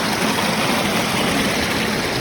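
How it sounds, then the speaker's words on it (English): Water rushing steadily down a large pondless waterfall in Pennsylvania, a continuous close, full splashing roar with no voices. "As it's dropping through there, you see how that water picks up."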